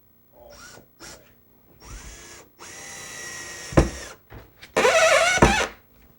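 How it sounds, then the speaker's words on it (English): Bursts of a power drill whining at steady pitch, pre-drilling and driving screws into plywood, a few short runs then longer ones, with knocks and clatter between, close by. "pre-drilling and screwing down through the plywood"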